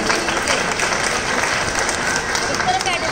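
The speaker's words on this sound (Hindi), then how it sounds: "एक बार जोरदार ताली तो बजा दो" An audience at a religious gathering in India bursts into loud, sustained applause, a dense, steady roar of many hands clapping at once, with some talking mixed in.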